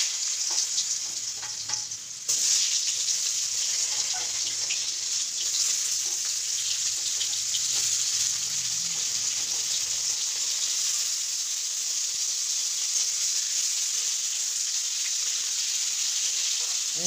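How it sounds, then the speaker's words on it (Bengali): Diced potatoes fry in hot oil in a wok, producing a steady, close sizzle and crackle that runs throughout with faint stirring clatter. "কড়াইয়ে তেল গরম হয়ে গেলে তার মধ্যে আমি আলুগুলো দিয়ে দিলাম ভাজার জন্য"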